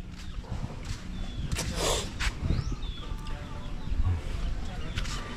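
A chicken clucks softly in short bursts amid outdoor ambience, with a few scattered rustles and faint movement nearby.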